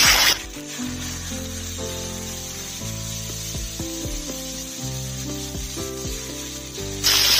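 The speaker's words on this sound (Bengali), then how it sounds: "পেঁয়াজ ভাজা হয়ে গেছে, বেটে রাখা মশলাগুলো দিয়ে দিলাম" Ground spice paste sizzling as it hits hot oil in a pan, a loud bright burst then a continuous crackling fry with scraping and stirring, no voices.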